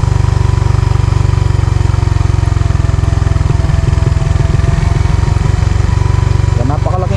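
Suzuki Raider Fi motorcycle engine braking on a steep downhill road, a steady loud low drone with rhythmic pulsing in the middle of the stretch, continuous throughout with faint voice-like sounds mixed in.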